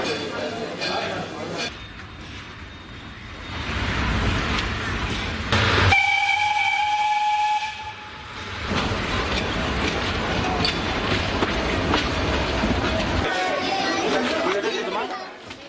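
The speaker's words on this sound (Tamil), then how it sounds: "அதன்படி சிறப்பு மலை ரயில் சேவை இன்று தொடங்கியது." A special mountain train running from Ooty to Mettupalayam rumbles steadily while a crowd chatters nearby, and a loud horn or whistle sounds for about two seconds partway through.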